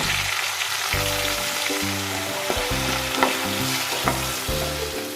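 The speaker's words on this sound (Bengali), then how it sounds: "পেঁয়াজটা নরম ভাজা ভাজা হলে আমি তারপর বেঁকে রাখা আদাটা একটু দিয়ে দেব" Onion and chili fry in a pan over a low-to-medium gas flame, with a steady close sizzle and bursts of stirring and scraping throughout.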